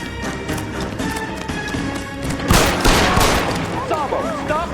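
Burst of gunfire in a police film scene, a loud cluster of shots erupting midway over tense dialogue and background score, with people shouting around it.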